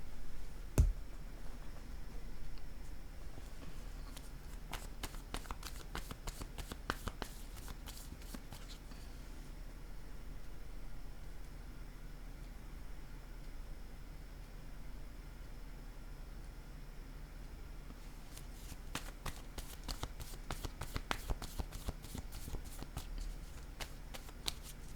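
Tarot-style cards are handled and set down, a quiet run of close, rapid flicks and soft taps that comes in bursts over a faint steady background hiss.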